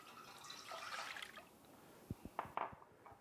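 Water poured for a pickle brine in a kitchen, a soft quiet rush of liquid followed by a few light drips and splashes, with no talking.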